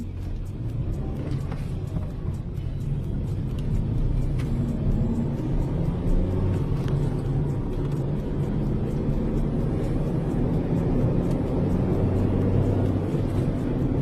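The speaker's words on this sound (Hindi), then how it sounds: "इस कार को 80 की स्पीड पर लेके जा रहा हूं" Steady low road rumble of a car cruising and building speed to about 80 km/h, a continuous engine and tyre drone with no voices over it.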